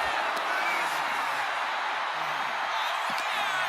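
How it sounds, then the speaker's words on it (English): An arena crowd roars and cheers continuously in the WWE 2K25 wrestling video game, a dense, steady wash of massed voices with a few brief accents. "With every move you make, you hear this capacity crowd following you on that journey."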